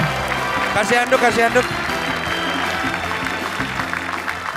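Studio audience applause continues after an escape from an ice-filled box, dense clapping mixed with music while a host calls out over it.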